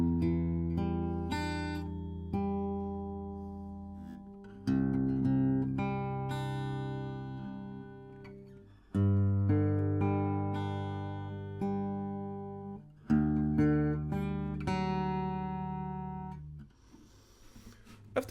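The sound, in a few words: acoustic guitar playing first part of a song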